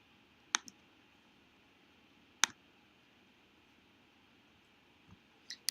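Computer mouse clicking in a quiet room: a few sharp, faint clicks spaced seconds apart, one doubled at the start and a pair near the end, over a low steady hiss.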